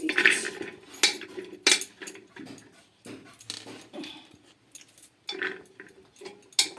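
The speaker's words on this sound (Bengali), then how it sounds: "আগে কুকারে আমি আলুগুলো দিয়ে দিচ্ছি।" Potatoes are dropped into a pressure cooker in a kitchen, making a series of hard knocks and metallic clatters that come in irregular bursts with quiet gaps between them.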